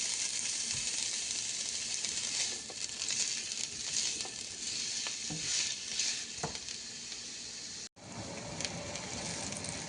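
Chopped onion sizzles steadily in hot oil for a tuna curry, a dense close frying hiss with occasional stirring scrapes, pausing briefly near the end before resuming.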